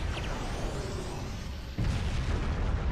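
A Nine-Tails bomb detonating in Naruto Shippuden Ultimate Ninja Storm 4, a dense, roaring blast rumble that swells into a heavier burst midway and keeps thundering loudly to the end.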